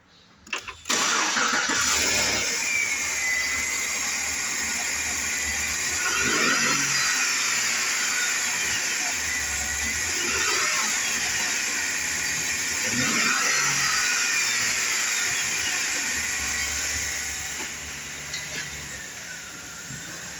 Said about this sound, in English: Gmc Yukon XL, mileage 368, 916, engine run video.